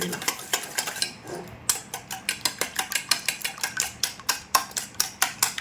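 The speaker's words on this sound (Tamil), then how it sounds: "இதை ஒரு நல்லா ஸ்ட்ரக்சர் வர அளவுக்கு பீட் பண்ணணும்" Cake batter being beaten by hand in a bowl, a steady run of quick, close scraping clicks of the utensil against the bowl, about four strokes a second, alone with no voice.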